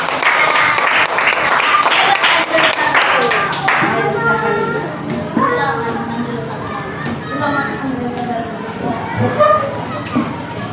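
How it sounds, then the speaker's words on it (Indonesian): Schoolchildren in a classroom clap for a group's presentation, a burst of fast crowded clapping for about four seconds that then gives way to children's chatter and talking. "Kalau memang betul, tepuk tangan buat teman-teman kita."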